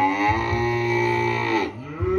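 Simmental cattle lowing in a long, loud, sustained moo up close, with a second shorter call starting near the end; no talk over it.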